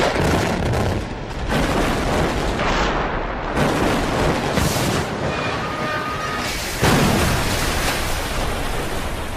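Explosive demolition of an old bridge, heard as a loud, sustained roar of blasts and rumbling that surges and falls in waves across the whole span, with no talk over it.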